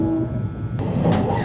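A train departs Chiba Station in Japan, a rumbling carriage interior with a sharp click midway and rising rolling noise as it moves off.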